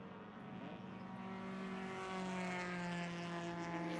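A race car engine drones steadily at a distance down the front straightaway of a circuit, a faint sustained tone rising gradually in pitch as it accelerates, with no voices.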